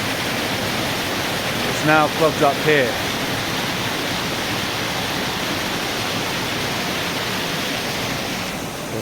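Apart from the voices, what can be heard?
water gushing through a mill race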